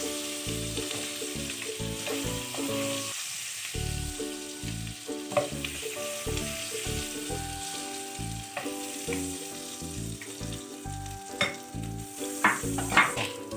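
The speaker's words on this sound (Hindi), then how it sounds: "इसको थोड़ा सा हम सौते कर लेते हैं" Fish stew ingredients sauté in a hot pan in a South Indian Kerala-style kitchen, a steady sizzle broken by repeated stirring scrapes and clinks that run through the whole stretch with no talking.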